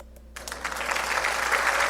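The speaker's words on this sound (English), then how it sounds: "If you're doing a video where you want to give yourself an applause" Stock applause sound effect previewed in video editing software, a crowd's clapping swelling in after a brief quiet start and rising to a steady, dense roar.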